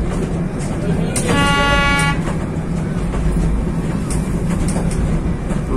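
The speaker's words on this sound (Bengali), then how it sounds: "আমরা টয় ট্রেনে রয়েছি, বাতাসিয়া লুপ।" The Darjeeling toy train runs at Batasia Loop. A loud steady rumble of the moving train is heard from on board, with a short high horn toot and some talk in the background.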